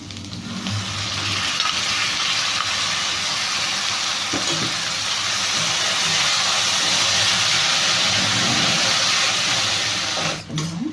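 Masala and tomato paste fry and get stirred together for egg biryani, a loud, steady sizzle close up with occasional scrapes of a spoon in the pan.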